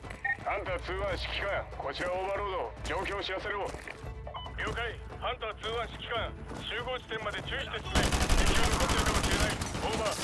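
AK-47 gunfire in the Modern Warfare 2 Remastered video game, heard as a dense, loud burst near the end after a long stretch of talking over game sounds.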